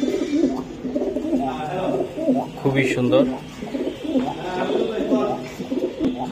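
Racing pigeons coo repeatedly close by, low rolling calls overlapping as someone speaks briefly over them.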